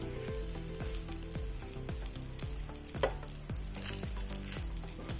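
Bitter gourd fries in a pan with a soft, steady sizzle, overlaid by regular low thumping stirring strokes and one sharper scrape midway, fairly quiet and free of speech.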